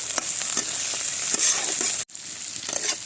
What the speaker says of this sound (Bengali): চিংড়ি মাছটা দিয়ে দিচ্ছি এবার সবগুলো একসাথে ভেজে নেবো